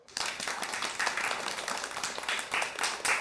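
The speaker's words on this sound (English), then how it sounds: "please let's have a big round of applause for Aishwarya Bhatia" An audience applauds to welcome an HR expert speaker to the stage, a short burst of close, crisp clapping that starts abruptly and continues evenly to the end.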